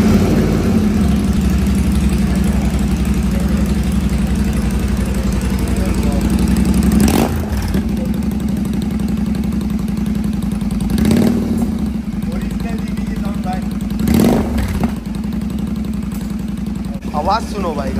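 Royal Enfield GT motorcycle with its stock exhaust idling loudly up close, a steady thumping beat broken by several quick throttle blips.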